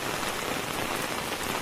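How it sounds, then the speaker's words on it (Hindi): Rain pours down steadily on a Bihar village during a storm, a dense, even hiss of drops striking surfaces up close. "पूरा बारिश आ चुका है।"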